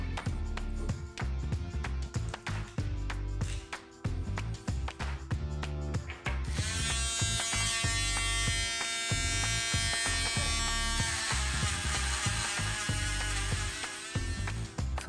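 A Dremel rotary tool with 600 grit sands a piece of Baltic amber, giving a steady, close, high-pitched buzzing whine that holds for the whole stretch and grows brighter and harsher partway through.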